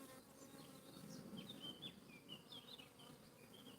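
Soft, dense buzzing of many honeybees fills the air around the hive, with individual bees droning past close by.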